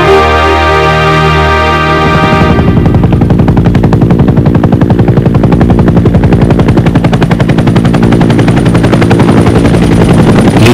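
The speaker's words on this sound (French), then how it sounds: "les soldats guettent anxieusement le bruit du rotor" A military helicopter's rotor beats in a fast, loud, steady chop close by, rising out of a roar and settling into a relentless pulse of thudding blade slaps.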